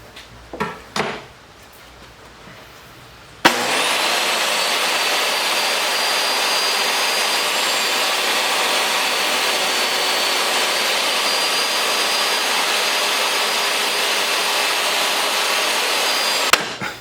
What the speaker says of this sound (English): Okay, so there was our first cut.